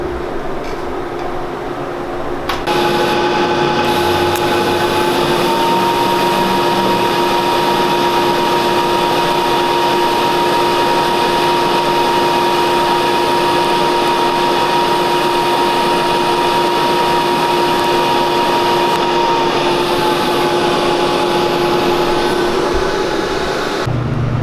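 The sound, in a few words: power drill drilling shock mount for travel sensor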